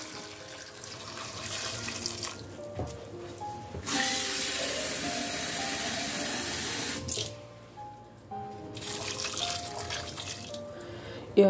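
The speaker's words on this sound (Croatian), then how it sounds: "sada ću da nalijem vodu u njega" Water runs from a tap into a pot of washed beans as a steady, close rush that swells to a fuller gush midway, then tapers off into trickles and drips, with no voices.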